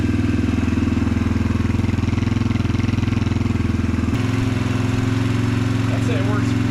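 A Yamaha TT-R 125 motorcycle engine idles loud and close with a steady rapid putter, its tone shifting slightly partway through as the choke is disengaged, with brief faint chatter near the end.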